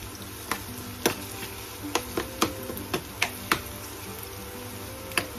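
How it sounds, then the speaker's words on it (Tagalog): Garlic and onion sauté in a pan with a steady close sizzle, broken by sharp spatula taps and ticks at an uneven rhythm. "Sangkutsahin natin ang bawang at sibuyas."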